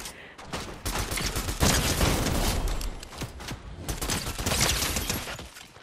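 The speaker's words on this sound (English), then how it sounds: "Oh shit, they're shooting at me." Enemy gunfire in a shooter video game: sustained volleys of rapid shots pelting the player, loud and dense throughout, with impacts and bursts overlapping in a continuous barrage.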